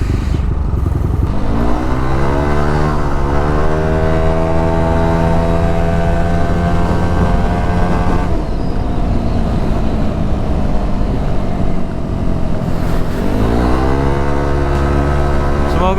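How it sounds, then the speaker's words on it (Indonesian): A motorcycle engine with a K'Race standard racing exhaust revs up and down repeatedly, close by and loud, with a throaty rising and falling drone. "Jadi ini knalpot standar racing dengan suara yang tidak terlalu menggelegar"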